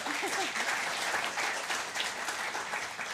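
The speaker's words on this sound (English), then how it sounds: "so a big round of applause for him, please." Audience applause fills a room at a Country Music Museum songwriters-in-the-round evening, a steady, dense round of clapping holding at even strength for a few seconds, with a faint voice briefly underneath.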